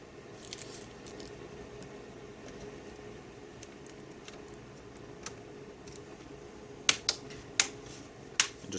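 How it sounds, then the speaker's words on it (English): Plastic screen bezel on a Dell Inspiron 15 3521 laptop pressed back into place, giving faint light snaps scattered over quiet room hiss, with several sharper clicks close together near the end. "just press down all around. You'll hear all the snaps."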